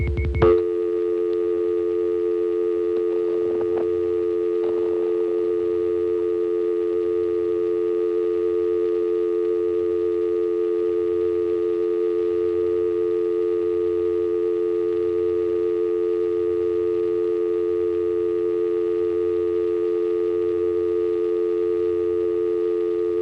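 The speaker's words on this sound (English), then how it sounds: "First, I'm just going to put in 2 dimes and let the dial tone time out." Dial tone on a payphone line through a 1976 #5 Crossbar office in Fredericksburg, Virginia, after coins drop in: a steady, loud, unbroken hum that holds without change for over twenty seconds, no voices.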